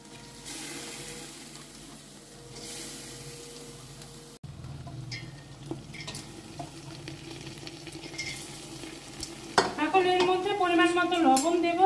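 Softened moong dal goes into a hot pan of vegetable khichuri and is stirred, giving a soft steady sizzle that grows louder with scraping and clinking of a utensil against the pan, close and alone.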